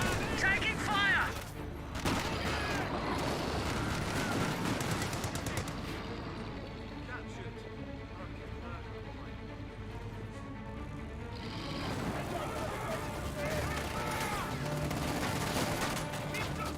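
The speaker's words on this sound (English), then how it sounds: "Vickers firing away" In the Company of Heroes 2 strategy game, a Vickers machine gun fires in rapid bursts among scattered explosions and battle noise, loud at first and then quieter, with a commentator talking over much of it.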